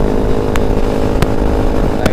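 A motorcycle engine drones steadily while riding, with a couple of sharp ticking knocks punctuating the loud, close running note.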